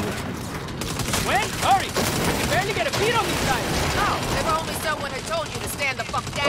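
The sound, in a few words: gunfire in video game Saints Row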